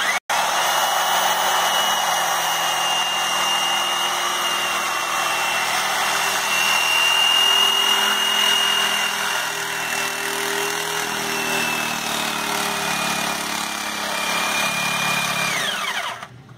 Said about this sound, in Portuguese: Esse aqui eu vou cortar bem na beira da borda aqui para aproveitar mais o pneu